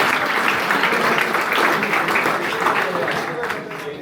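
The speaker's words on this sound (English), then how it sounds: "big round of applause to the seniors as well" Audience applause for cadets at an event after an adventure trip, a steady, loud wash of clapping that lasts the whole stretch, with a voice speaking over it.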